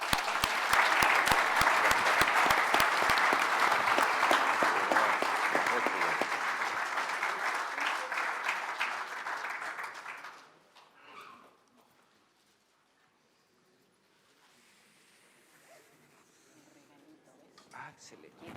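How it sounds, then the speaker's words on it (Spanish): Audience at a panel discussion on security in Chile gives loud, sustained applause for ten seconds, which then fades out, leaving quiet murmuring and low voices near the end. "quiero que le brindemos un fuerte aplauso a nuestros panelistas"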